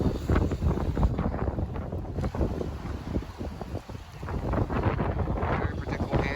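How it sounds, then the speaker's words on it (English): Strong, cold wind buffets the microphone outdoors in a steady roaring rush with gusty swells, loud and close, at an RC buggy run of a 1985 Tamiya Fox, with no talking. "Gosh, the wind is crazy today."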